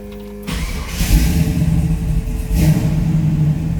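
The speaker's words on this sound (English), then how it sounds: "See how easily the car starts" 1967 Chevrolet Camaro RS V8 cranks and fires up close by, a sudden catch into a loud rumbling idle followed by a second surge of revs.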